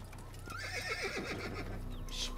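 In the video game Assassin's Creed, a horse gives a clear, wavering whinny over the steady clatter of its hooves, set against constant game background ambience.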